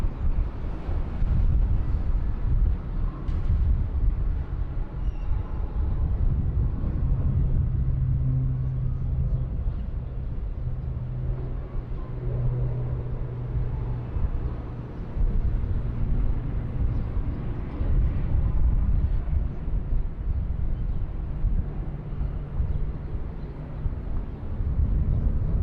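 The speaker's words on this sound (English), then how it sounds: "Indigo 1794 coming in from Mumbai. It's an A321neo." An IndiGo Airbus A321neo arrives at Bangkok airport, heard as a steady, deep rumble of engine noise from a distance that holds throughout with little change.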